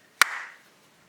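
A single sharp hand clap rings out once, close and crisp, with a short room echo trailing off afterward.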